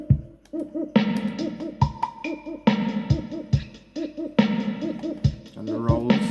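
Reggae percussion section with drums: steady kick and snare hits under a bouncing, hollow hand-drum pattern that repeats in a loose, rolling groove, full and close.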